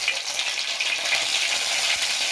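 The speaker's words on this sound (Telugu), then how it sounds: "ఫస్ట్ ఆవాలు అయితే వేసి ఆవాలు చిట్టుపట్టన్నాయి" Mustard seeds crackle in hot oil for a tempering for spinach dal, a loud, close, unbroken sizzle with fine popping and no voices.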